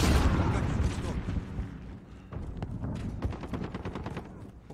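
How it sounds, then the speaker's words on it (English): In the Modern Warfare video game, a grenade explosion opens with a loud, booming blast, followed by dense bursts of rapid gunfire and sharp individual shots at close range. "Grenade out!"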